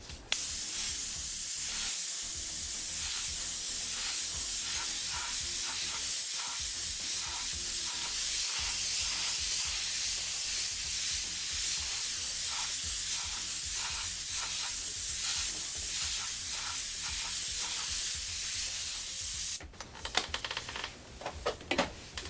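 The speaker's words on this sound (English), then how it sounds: "Nice wide spray." An airbrush hisses in a long, steady, wide spray of paint with faint clicking texture, then stops abruptly near the end, leaving brief scattered handling noises.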